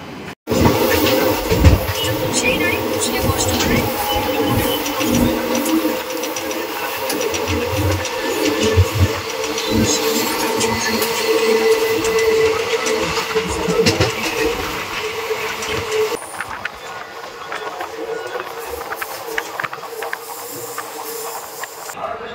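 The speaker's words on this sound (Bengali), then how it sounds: "ট্রেন এসে পৌঁছালো 3 নম্বর প্ল্যাটফর্মে" A passenger train pulls in to platform 3 at Brahmapur railway station, its engine rumbling and wheels clattering loudly and continuously before the noise drops sharply near the end.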